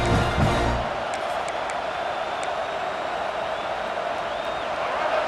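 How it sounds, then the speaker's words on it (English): A stadium crowd in the College Football 26 video game keeps up a steady, broad roar throughout, with a brief louder thump at the start. "The roar of the crowd trying to fuel this defense to keep them pinned in their own end."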